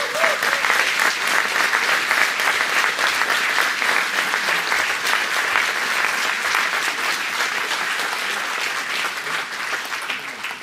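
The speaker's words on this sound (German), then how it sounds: "Nochmal einen riesigen Applaus" Sustained audience applause after a polka at a brass band concert in Germany, dense, steady clapping from a large crowd that stays loud throughout and eases only slightly toward the end.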